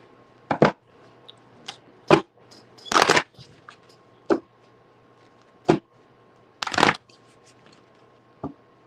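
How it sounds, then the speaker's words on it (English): Tarot cards shuffled in short bursts: crisp riffles and snaps separated by pauses, close up against a quiet background. "let's get a shuffle."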